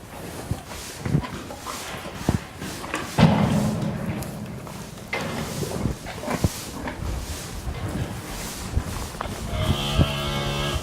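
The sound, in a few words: cow on heat mooing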